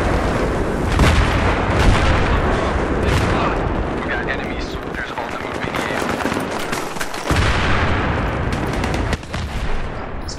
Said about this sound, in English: Mortar, wow.